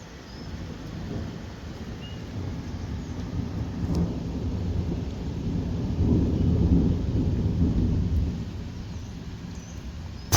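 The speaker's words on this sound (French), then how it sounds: "On va entendre le tonnerre" Thunder from a February storm in Bordeaux rumbles low and long, swelling in the middle and slowly fading, with rain and wind underneath.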